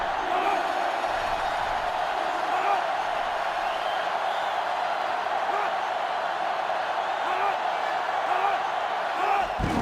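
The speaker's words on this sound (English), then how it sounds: "This sellout crowd is really making a difference now as these guys can't even call the play." A sellout stadium crowd roars in the NCAA Football 2005 video game during a Michigan versus Ohio State matchup, a steady, dense wall of noise that holds at an even level throughout.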